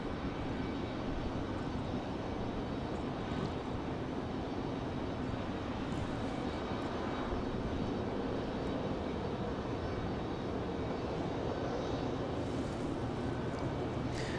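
An international jet departure at Raleigh Durham airport at night gives a steady, fairly distant engine roar that stays even and unbroken, with no talking.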